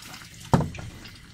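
Tap water pours briefly onto a frozen wedding ring being thawed, a short close splash that swells and fades within about half a second.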